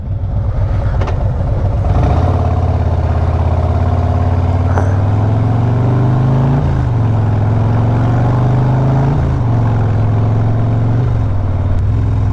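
A Harley-Davidson Road Glide fitted with a Vance and Hines Big Radius 2-into-2 exhaust idles with a loud, deep, lumpy rumble close by. The throttle is blipped several times, each rev briefly raising the pitch before it settles back to idle.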